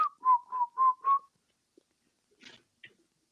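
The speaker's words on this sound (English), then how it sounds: "Whistle while you twerk." A person whistles five short, clear notes in a quick rhythm, then a few faint rustles follow in near silence.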